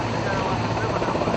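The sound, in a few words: helicopter delivering EVM machines and polling parties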